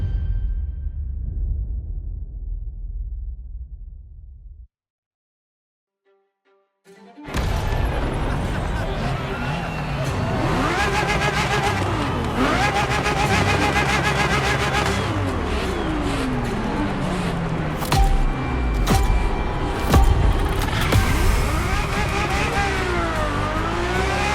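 Ferrari F50 in the racing game The Crew Motorfest: a low engine rumble cuts to silence, then the V12 roars back, revving hard with rising and falling pitch sweeps, loud and close, mixed with background voices.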